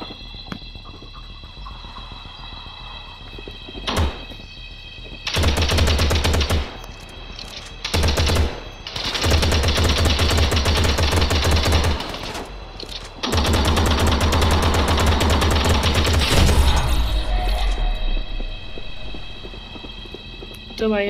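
Gunfire in the Gangstar New Orleans video game during a shootout with a police officer: long loud bursts of rapid automatic shots, broken by short pauses, with a voice talking underneath.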